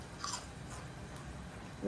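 Crunchy fried wonton strips being chewed close to the mouth, producing soft, quiet crunching bites at low volume with no talk.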